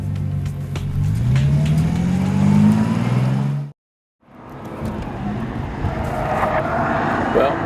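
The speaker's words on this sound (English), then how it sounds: "driving this new extreme Bentley around this phenomenal track" A Bentley Continental Supersports races around the Nürburgring, its engine rising in pitch as it accelerates through the gears before a brief cut to silence, then a loud, roaring engine returns with a voice speaking over it.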